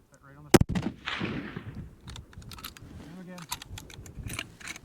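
A single sharp rifle shot from 280 Ackley Improved hand-loads cracks early, loud and close, followed by rustling, clicks and quiet talk.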